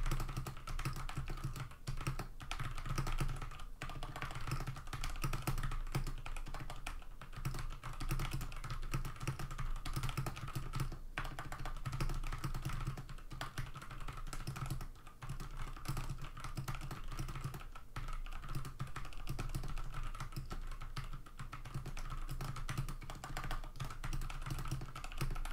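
Continuous typing on a Velocifire VM02WS mechanical keyboard with MX Brown clone switches, a steady patter of soft tactile key clicks and thocks at close range, quiet and without voices.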